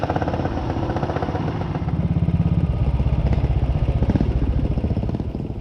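A classic BSA B31 motorcycle's single-cylinder engine, set inside a motorcycle museum, fires and settles into a steady loud thumping idle with some mechanical clatter, close by and with no talk.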